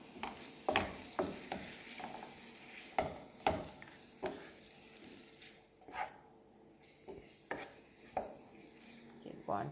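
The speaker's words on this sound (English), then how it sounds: "So now I'm going to turn it over. Make it go and cook." Chicken pieces frying in a pan for a creamy chicken curry, with a faint steady sizzle broken by repeated sharp utensil scrapes and taps as the meat is turned.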